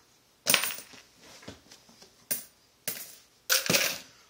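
Coins clatter and drop onto a hard surface near a microwave, several sharp jingling bursts spaced unevenly, with softer handling clicks between them, close and fairly loud with no talk.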